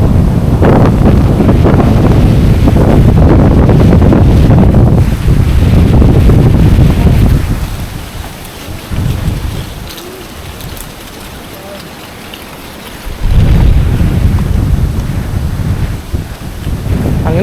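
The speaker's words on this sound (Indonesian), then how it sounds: "Anginnya kenceng banget." Strong wind buffets the microphone on the slopes of Mount Butik, a loud roaring gust that drops away briefly midway and then surges back just as hard.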